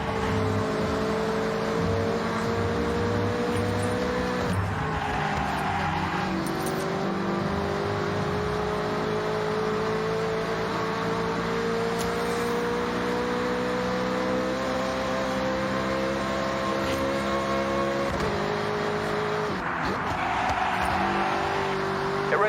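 Sustained car engine roar in the Forza Horizon 6 racing game, with steady high revving and rising and falling pitch as the car accelerates, loud and continuous throughout with no talking.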